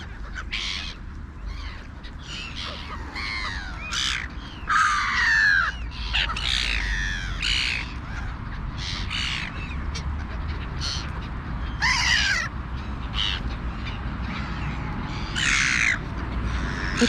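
Crows caw repeatedly outdoors in a field where birds are fed treats, harsh calls in irregular bursts, some close and loud, others overlapping, over a low steady background rumble.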